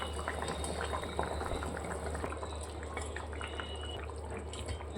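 Fish curry gravy bubbles in a pan, a soft, steady simmer of small pops and gurgles, fairly quiet and continuous.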